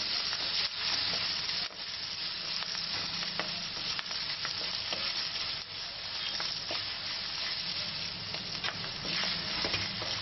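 Green chillies fry in oil in a pan for raw tomato chutney, a steady close sizzle with faint scattered crackles and occasional light scrapes, without talk.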